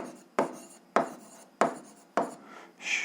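Chalk or pen strokes writing a physics formula for spring stiffness, with four sharp, scratchy strokes spaced evenly and a softer rasp at the end, close and clear with no talking.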